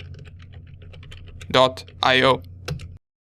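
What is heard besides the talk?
typing on a computer keyboard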